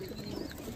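An adult Andhra pigeon gives a soft, low coo, faint and brief against quiet background noise.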